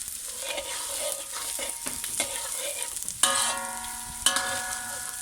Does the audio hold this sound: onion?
yes